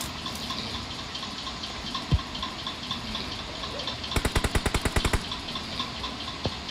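Gunfire in a video game scrim: a burst of about ten rapid, evenly spaced shots rings out mid-clip, with a couple of isolated single shots around it, fairly faint against a constant background hiss.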